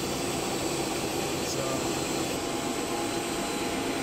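A belt-driven chilled water pump motor runs on an ABB ACS550 inverter, making a constant loud, broadband whirring roar with no change in level throughout, close by and with no talk over it.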